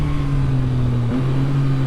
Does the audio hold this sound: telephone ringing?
no